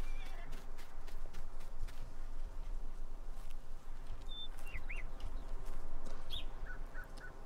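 Horse hooves clip-clop steadily as a rider takes a horse on a short jaunt in Farming Simulator 19, a continuous rhythmic patter under ambient birdsong, with a few chirps and a brief whinny-like call.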